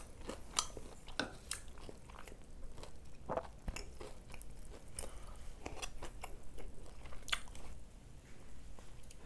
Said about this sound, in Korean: 해시 브라운 한번 먼저 먹어볼게요